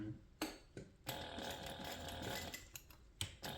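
Sewing machine stitching seams on a sublimated fabric pouch, short bursts of rapid mechanical whirring separated by brief pauses, close and fairly quiet.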